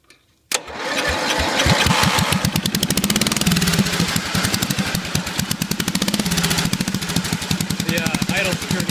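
A racing lawnmower engine starts abruptly, then idles loudly and close with a rapid, uneven putter that surges slightly, running alone without talk.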